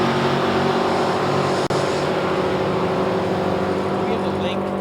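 Drag racing cars launching off the start line at an NHRA Division 3 event on Route 66, a loud sustained engine roar with a brief cut partway through, heard under an announcer's talk.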